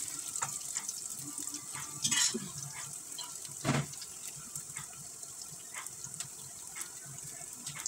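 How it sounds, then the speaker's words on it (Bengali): Chopped onions frying lightly in hot oil in a pan, a steady soft sizzle running throughout with a few brief louder scrapes or stirs. "পেঁয়াজ কুচিগুলি আমি হালকা একটু ভেজে নিব।"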